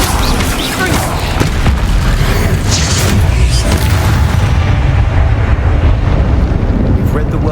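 A Bombarda spell explosion in Hogwarts Legacy: a loud, sustained, rumbling blast that fills the whole clip, heavy and broad, with a faint voice underneath.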